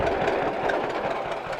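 A Minneapolis Moline model E corn sheller runs under PTO power, giving a dense, constant mechanical rumble with a faint rhythmic knock, loud and close with no pauses.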